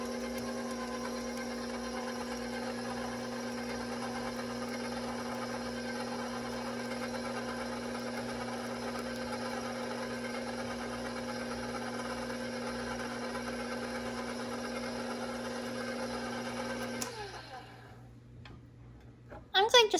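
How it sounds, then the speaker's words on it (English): An electric mixer whirs steadily through chocolate donut muffin batter, a constant motor hum that runs for most of the stretch before cutting off abruptly near the end. "Now I can restart my mixer."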